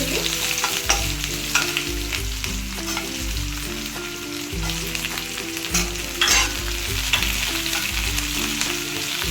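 Sliced onions fry in hot oil with whole spices for an Odia cauliflower-potato curry, sizzling steadily and crackling while a utensil stirs and scrapes the pan in rhythmic low knocks, close up with no talking.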